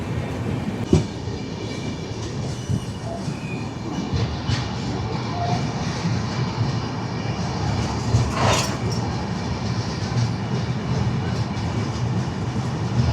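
Karaikal to Mumbai LTT express train passing at Wadi Junction, a long steady rumble and clatter of wheels on track with sharp clicks of rail joints, loud and close throughout.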